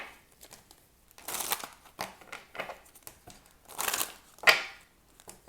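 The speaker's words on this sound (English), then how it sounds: "One more shuffle." Tarot cards being shuffled, a series of soft, irregular papery riffles and flicks, close and quiet, with short bursts separated by brief pauses.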